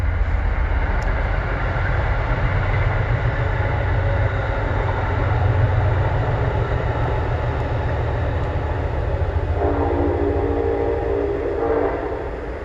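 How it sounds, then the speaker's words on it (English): A train rolls past a garden property with a long, steady rumble and clatter of wagons lasting over twelve seconds, easing off slightly at the very end. "Let the train go by"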